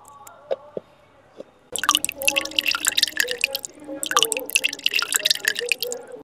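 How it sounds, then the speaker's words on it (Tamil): Water drains from boiled soya chunks into a strainer, first a few scattered drips, then two bursts of splashing, pouring liquid and squishing, close and fairly loud. "இதில் இருக்கிற தண்ணியை வடிச்சிடுவோம்."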